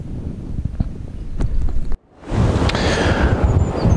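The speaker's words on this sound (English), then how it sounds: "it's still very windy here" Gusty wind buffets the microphone beside a canal early in the morning while pike fishing, a rough low rumble that cuts out briefly, then returns as a stronger, sustained roar.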